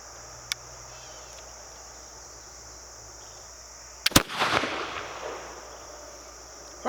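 A Dikar flintlock pistol fires once outdoors, a sharp crack followed by a fizzing, crackling burst that fades over about a second, set against steady insect chirping and faint background hiss.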